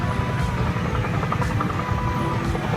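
A continuous low whirring rumble of a helicopter sound from a parade float at a Kopassus carnival, droning steadily at moderate volume without a break.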